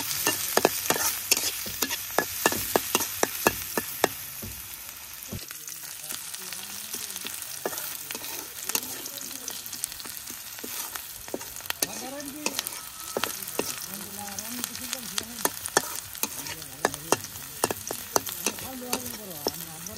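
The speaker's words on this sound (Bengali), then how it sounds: "পেঁয়াজ কাঁচামরিচটা ভালোভাবে ভেজে নিই।" Chopped onion and green chilies fry in oil in a wok, a steady crackling sizzle broken by frequent sharp scrapes and taps of a spatula as the mix is stirred, close and fairly quiet.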